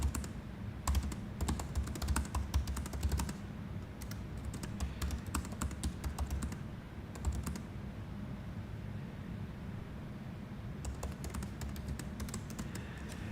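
Keys on a computer keyboard clatter in quick close bursts, pausing between clusters of taps as a short greeting is typed, quiet and alone.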